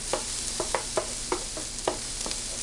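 Onions and peppers sizzle in a pan under a steady hiss while a utensil stirs them, giving about nine distinct scraping knocks at an uneven pace, close by and with no talking.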